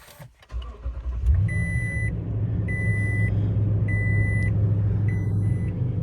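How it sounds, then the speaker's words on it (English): A 2020 Toyota Tundra TRD Off-Road CrewMax starts up: a short crank catches into a steady, rumbling idle, heard close from inside the cab, with a series of four regular electronic chimes sounding over the engine. "Inside now for a startup, you do have keyless entry."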